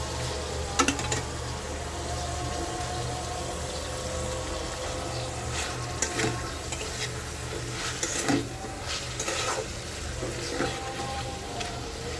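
Hilsa fish goes into a spice paste of turmeric and chili paste that is frying in a pan. A dense, even sizzle runs throughout, with scattered clinks and stirring scrapes.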